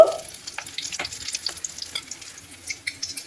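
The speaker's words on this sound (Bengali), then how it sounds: "আমি বাকি ডিমগুলো একইভাবে ভেজে নেব" Eggs frying in a pan for an egg curry, a steady close sizzle with scattered crackles and pops, no talking.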